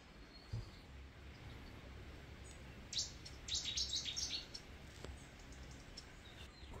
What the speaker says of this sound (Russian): Вот здесь вы наблюдаете за птицами.